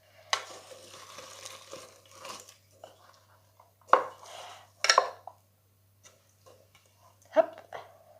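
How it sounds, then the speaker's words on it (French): Cooked sushi rice is mixed with sushi vinegar in a salad bowl, giving soft scraping and stirring strokes in a few short, close bursts separated by near silence, with a voice speaking between them. "Maintenant je vais mélanger à ce riz un vinaigre comme ça, spécial pour sushi."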